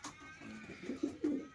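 Pigeon in a loft giving soft, low cooing notes, a few short throaty pulses close by at low volume.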